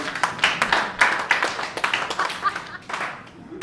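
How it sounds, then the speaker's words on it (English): A small audience clapping at a comedy-style live show, a sparse cluster of individual hand claps with an uneven rhythm, fairly close and moderately loud, with no talk over it. "The handful of people who can actually clap, please clap."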